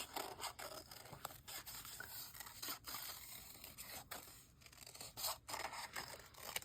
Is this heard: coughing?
no